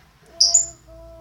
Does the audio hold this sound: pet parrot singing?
yes